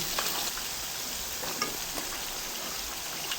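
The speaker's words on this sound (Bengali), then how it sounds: "এখন মশলার মধ্যে আমি তরকারিগুলো দিয়ে দিচ্ছি, মানে সবজিগুলো দিয়ে দিচ্ছি।" Vegetables sizzle and fry in spiced masala in a pan for a home-cooked vegetable curry, a steady hiss with a few soft scraping stirs and clinks, no talking.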